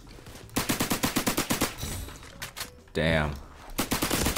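Suppressed Tommy gun in the Roblox game Criminality fires in rapid bursts, a run of about a dozen regular close shots, a pause, then another short burst, with a voice briefly cutting in between.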